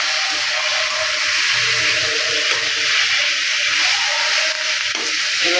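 Cabbage leaves fry in hot oil in a wok, giving a loud, steady, close hiss that continues unbroken without talk.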